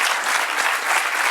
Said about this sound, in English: one huge round of applause once again to welcome General Naravne sir.